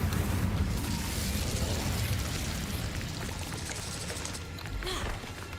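Incendio fire spell cast in Hogwarts Legacy, a dense, roaring whoosh of flame that fills the clip loudly and steadily, tapering slightly toward the end with a brief crackling burst near the close.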